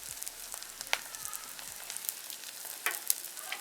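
Onions, with curry leaves and green chillies, fry in a pan for a Jaffna-style broad bean curry, giving a faint, steady sizzle with occasional light clicks from stirring.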